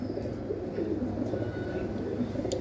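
Pigeons in a netted rooftop loft coo in low, rolling murmurs, a steady soft burble from several birds close by, with faint background noise and no clear talk.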